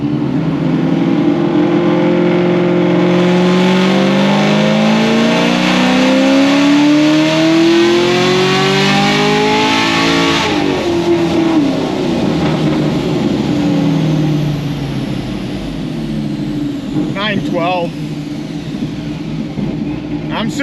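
Stage 5 ZL1 engine revving hard through a pull inside the car, the pitch climbing steadily through the gears before easing off, loud and close, with brief crackles near the end.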